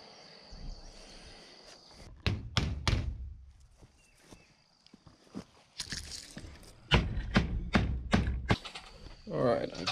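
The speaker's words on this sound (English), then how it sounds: "I've banged this thing back into position." Someone bangs a part of an outdoor goat shelter back into position, producing bursts of loud, sharp thuds in two clusters separated by quieter moments with faint background activity.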